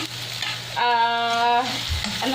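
Minced garlic sautéing in a pan, with a close sizzle and stirring scrapes; a strong steady tonal hum sits over the middle stretch, and a low thump follows near the end.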